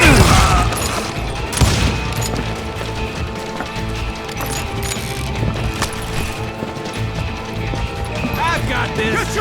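Gunfire crackles in a street shootout in the video game Call of Juarez: Gunslinger, loud and continuous with sharp shots and clanking mechanical noise layered over a dense, busy game soundtrack.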